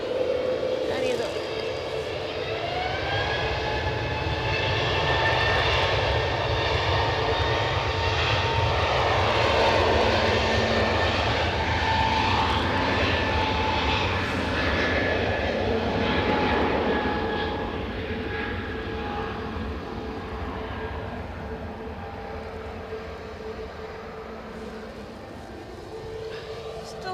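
Airliner taking off from Edinburgh Airport, bound for Istanbul, its engine roar swelling and holding loud and steady for most of the stretch before easing slightly; a voice talks over it throughout.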